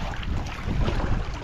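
Large sea waves slosh and rush steadily around a small fishing boat out on open water, mixed with wind buffeting the microphone, continuous and fairly loud with no talking.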